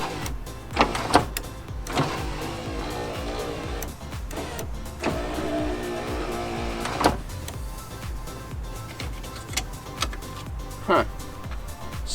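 Electric power window motor on a 1993 C4 Corvette running with the door panel off, a whirring hum rising and falling in several short runs among clicks and knocks, with people talking throughout.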